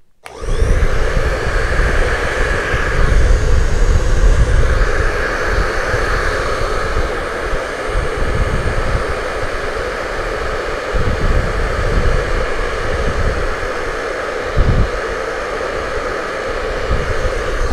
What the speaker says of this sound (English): Now this hair dryer comes with two different nozzles.